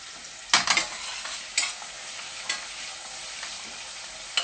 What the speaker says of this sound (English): And just bring it up to a lively sizzle